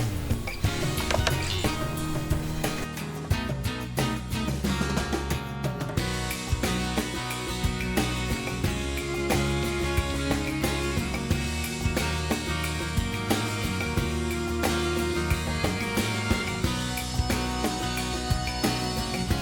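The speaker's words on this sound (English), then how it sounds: "now that it's done cutting, let's remove it from our machine." A vinyl cutting machine slicing permanent adhesive vinyl gives off a continuous whirring, stepping mechanical drone with rapid ratchet-like ticks and motor tones, steady and close throughout.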